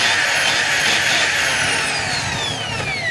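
A DeWalt DWD024 1/2-inch hammer drill test-runs freely without a screw fitted, giving a loud, steady motor whine that holds close for the whole stretch and then slowly drops in pitch.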